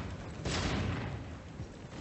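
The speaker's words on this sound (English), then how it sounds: "I'm going to take my grenade launcher." Grenade launcher shot in Lara Croft and the Guardian of Light, a single muffled thump and burst rising over steady game ambience, moderately loud and then fading into a low rumble.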